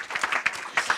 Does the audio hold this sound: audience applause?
yes